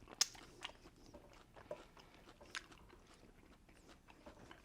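A few sharp crunchy bites into crisp, hot air-fried buffalo wings, close up and fairly quiet, with soft chewing between them.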